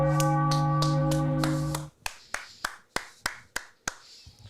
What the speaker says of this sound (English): I'm clapping for you because you did an awesome job today